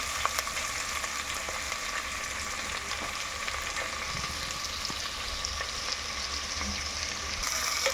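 Onions fry in oil with green chillies and curry leaves for a coconut mango curry, giving off a steady, even sizzle throughout, close and moderately quiet with no voices.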